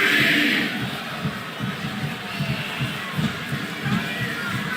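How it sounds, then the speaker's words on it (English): An arena crowd in the WWE SmackDown vs Raw 2008 wrestling video game roars steadily, a dense constant cheer with rhythmic swells and a louder burst at the start. "I cannot remember the last time I've seen a crowd this pumped up."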